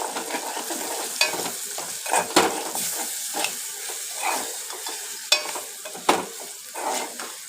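An egg curry masala of reddened onions with ginger and turmeric sizzles steadily in a pan while a spoon stirs and scrapes at intervals, close and continuous with no voices.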